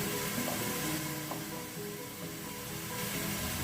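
Mutton karahi sizzles steadily in a hot pan as tomatoes and turmeric powder go in, a dense continuous frying hiss with a few soft stirring knocks, close and without talk.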